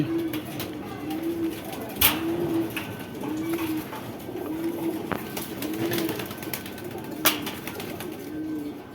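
Pigeons coo in a slow, regular series of soft low calls at a pigeon market, with scattered clicks and ambient bustle in the background.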